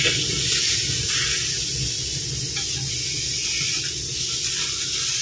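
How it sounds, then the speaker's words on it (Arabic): Oil spray hissing steadily over fish fillets frying in a pan, a continuous close sizzle with no pauses and no talk. "ممكن السمك تديله بخة زيت عليه"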